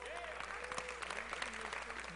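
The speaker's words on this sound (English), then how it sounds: "Give him a round of applause, folks." A crowd claps for a volunteer called up during a live show in Pigeon Forge, a steady patter of applause with voices and some tonal sounds mixed in underneath.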